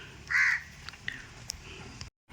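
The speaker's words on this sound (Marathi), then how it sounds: "इथे जत्राच भरलेली असते पक्ष्यांची" A single loud crow caw rings out near the start, followed by fainter bird calls and small clicks against a quiet outdoor background.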